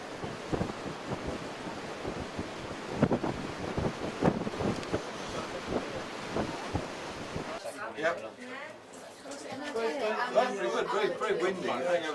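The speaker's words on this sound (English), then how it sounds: "Yeah, the wind comes up." Strong wind buffets the microphone at South Africa's tallest sea cliffs beside a powerful lighthouse, with surf churning below; gusty roar rises and falls, turning harsher and more broken toward the end, while people talk faintly.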